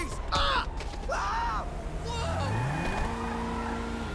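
A car in the video game GTA 5 revs and skids, with squealing tire chirps early on followed by a rising engine drone as it accelerates away, loud and close, with no one speaking.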